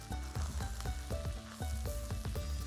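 Garam masala, red chilli powder and turmeric being stirred in a pan, giving a steady close sizzle broken by a rhythmic series of soft scraping and clinking strokes of a spoon, with no talking.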